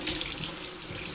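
Cold tap water runs steadily into a sink over a whole pompano, a close, continuous splashing rush with no voices.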